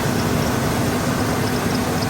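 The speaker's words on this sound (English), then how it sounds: "She's not running well, guys. No, she's got a misfire." A police car's engine idles steadily with a low, uneven rumble, its rhythm hitching from a heavy misfire, close and continuous with no talking.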